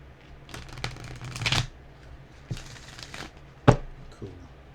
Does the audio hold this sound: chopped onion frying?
no